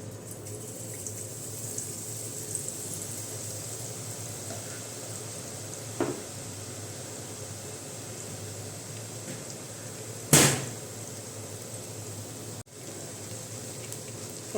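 Boondi batter fries in hot oil for a traditional Kerala ladoo, giving a soft, steady sizzle throughout with a sharp clatter of a utensil partway through.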